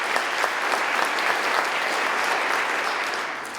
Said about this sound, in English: give our musicians a round of applause